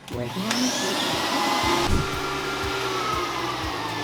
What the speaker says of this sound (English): It would help if I plugged in the shop vac.